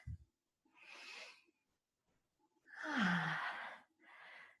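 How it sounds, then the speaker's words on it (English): A long, breathy inhale followed by a fuller, deep sigh of an exhale comes close and alone during a guided stretching session, with a short breath trailing after. "One more big deep breath."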